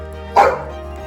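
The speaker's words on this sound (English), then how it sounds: "Dogs barking in the background." One short dog bark rings out clearly over a steady background hum at a ranch in Longmont, Colorado, where rabbits are raised as livestock.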